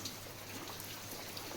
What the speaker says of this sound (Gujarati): જે વરસાદ ચાલુ છે બહારથી